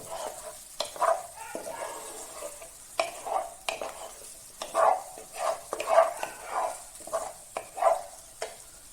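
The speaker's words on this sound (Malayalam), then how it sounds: "അപ്പോൾ അത് ഒരു 2-3 മിനിറ്റ് നമ്മൾ ഒന്ന് ഇളക്കാം" Coconut thoran being stirred in oil in a pan for a vazhakoombu (banana flower) thoran: repeated scraping, clattering strokes of a spoon against the pan, irregular and close, over a soft sizzle, with no talk.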